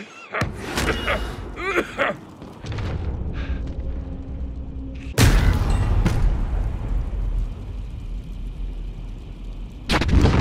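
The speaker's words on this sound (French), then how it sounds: "Je me fais tirer dessus." In Call of Duty: Warzone, bursts of gunfire and heavy booming impacts hit around the player, loud and close, with a sustained rumbling barrage between sharp blasts.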